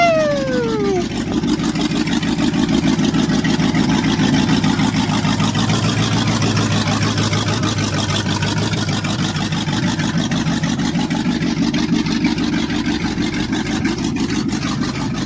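A 1972 Chevy C10 short-bed V8 with an Edelbrock setup runs steadily after being revived from neglect, a loud, continuous rough engine rumble with a faint rising whine at the start.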